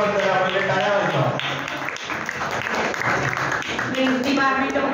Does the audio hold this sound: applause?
yes